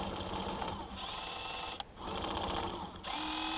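The jackhammer on a modified Huina 1580 RC excavator chatters against ice in a rapid, continuous mechanical buzz at close range, with one short break partway through before it resumes.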